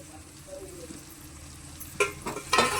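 Sambar masala, coriander powder and garam masala are stirred in a hot pan, with a soft continuous sizzle broken by a couple of louder scraping strokes near the end.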